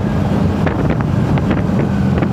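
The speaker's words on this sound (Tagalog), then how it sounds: "Ano pa, rinig lang yung hangin." Steady wind rush buffets the helmet microphone of a Honda ADV160 scooter cruising a straight road toward the mountains on a beach ride, loud and continuous with no talk.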